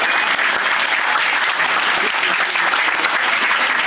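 Crowd applauding a team at a sports awards ceremony, a steady, dense burst of clapping from many hands that holds at full strength throughout.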